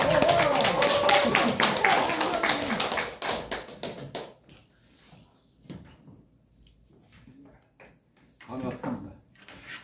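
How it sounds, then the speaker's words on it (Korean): An audience at a Cheondogyo lecture welcomes the graduate school director with brisk, close clapping for about four seconds, which quickly tapers into sparse, isolated claps and quiet pauses. "천도교 종합대학원 원장님이신 서감 김혁태 원장님을 박수로 모시겠습니다."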